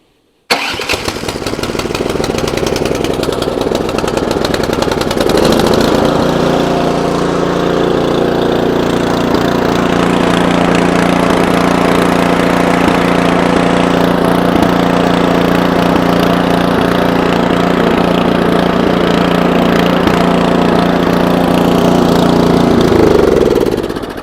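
A repaired snow blower engine, its carburetor just fixed, starts after a brief pull and settles into a steady, loud, continuous small-engine run close by, with no talking.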